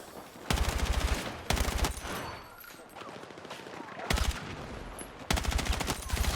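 Bursts of automatic gunfire from the video game Battlefield 6, four loud rapid-fire volleys separated by short pauses, with a quieter background of game ambience between them.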